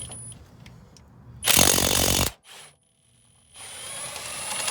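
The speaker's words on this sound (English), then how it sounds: "just use an 18 millimeter socket, or you know, a drill or whatever you have" A short, loud burst of a power drill whirring for about a second while removing brake caliper bracket bolts on a 2004 Chevy Suburban, followed by a brief second spurt and then a steady background hum.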